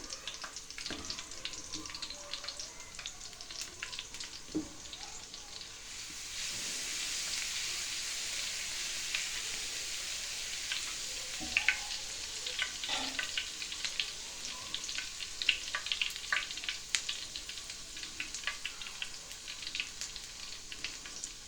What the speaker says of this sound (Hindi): लहसुन को पहले डालेंगे थोड़ा सा